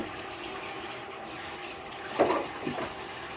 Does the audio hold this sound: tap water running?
yes